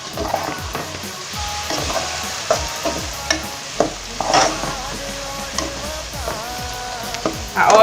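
Fried beef sizzles steadily in a pan on low heat while a utensil stirs and scrapes it in irregular knocks and swishes, close up and with no talk.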